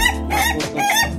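An Ayam Ketawa, the Indonesian laughing chicken breed, crows loudly and close by in a rapid, rolling burst of harmonic calls with a brief break midway, and no other sounds intrude.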